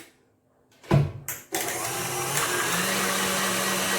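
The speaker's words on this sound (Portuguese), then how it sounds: "Vou ligar a nossa batedeira." An electric stand mixer whips unsweetened cream for chantilly: a thud, then the motor switches on and runs at a steady, loud whir with a faint rise in pitch partway through.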